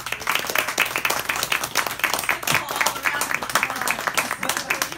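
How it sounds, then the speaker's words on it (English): An audience at a book discussion applauds author Tosca Lee, a close, lively patter of many clapping hands with individual claps standing out, while voices talk underneath. "Let's give Tosca a big round of applause."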